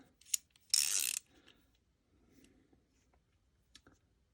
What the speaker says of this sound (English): it's a regular round head ratchet